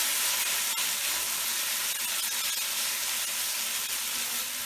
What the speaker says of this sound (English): Nicely mix the yogurt to the masala.